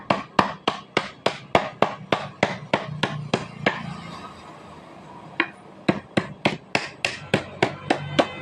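A hammer taps the rim of a handmade winnowing basket held on a wooden block, giving sharp, evenly spaced knocks close by. A brief pause with faint rustling interrupts them before the steady tapping resumes.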